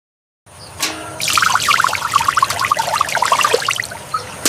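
Cold well water pours steadily from a vessel in a hot-weather setting, a close, continuous splashing gush that starts after a brief silence and runs to the end without speech.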